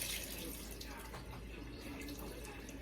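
A greasy kitchen cleaning cloth is rinsed under a running tap, a steady close splashing rush of water with faint gurgles throughout, no talking.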